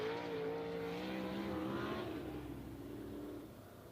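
Sprint cars roll onto a dirt racetrack at Outlaw Speedway during qualifying. Engines rise and fall as they pass at moderate distance, with a sustained droning whine that slowly fades toward the end.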